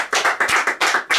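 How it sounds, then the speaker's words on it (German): A handful of sharp, close claps in quick irregular rhythm, loud and dry with no voices, sounding like a single person or small group clapping. "Fall nochmal ein Applaus an Robin Hood."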